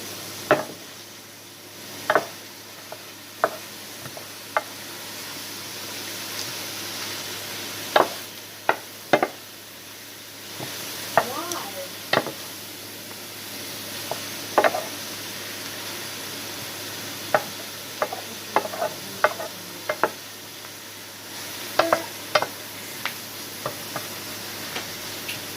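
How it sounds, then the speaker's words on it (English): Fried rice frying in oil with steady background sizzle, punctuated by sharp scattered clicks and taps of a utensil stirring against the pan, alone without talk. "I'm gonna add a little bit more oil. So it can fry up better."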